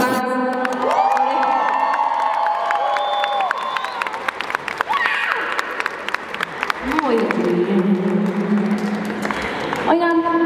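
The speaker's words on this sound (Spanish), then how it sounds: "Hay que dar un aplauso a Paso Paz." A crowd at a large event applauds and cheers loudly with whoops and shouts, while an amplified voice speaks over the noise. The applause swells and stays busy throughout.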